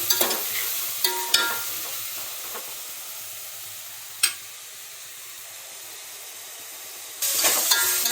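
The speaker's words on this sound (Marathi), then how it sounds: "कांदा परततोय आपला, लाल होऊन द्यायचा छान." Onions sautéing in a pan for biryani: a steady frying sizzle with several sharp spoon scrapes and taps, dropping quieter midway and then flaring loud again near the end, no talking.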